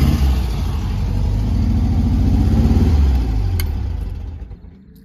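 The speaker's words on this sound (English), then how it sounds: "It's a 1200 engine." An air-cooled Volkswagen Beetle 1200 engine runs close by with a steady, throbbing mechanical rumble that swells slightly and then fades toward the end, with no talking over it.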